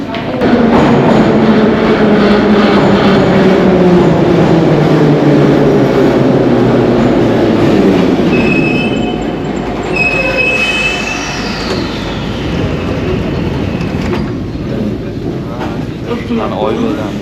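A metro train passes through a station, its wheels squealing in high sustained tones over a loud, steady rumble that eases as it goes by, with voices faintly in the background.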